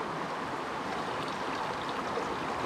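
Water rinsing through an activated charcoal hiking water filter, a steady soft rushing trickle that continues evenly throughout.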